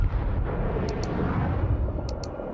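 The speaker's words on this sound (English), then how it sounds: "the building where Tom's team is housed comes under attack, resulting in a massive explosion" A building blows up in a massive explosion during an attack in a film, heard as a loud, sustained low rumble and roar across the whole stretch, with a few brief high crackles of debris.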